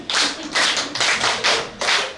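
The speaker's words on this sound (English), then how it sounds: "Clap for yourself" Classroom students at a World Teachers' Day event clap in short group bursts, about five quick rounds with brief gaps, loud and close, no voices.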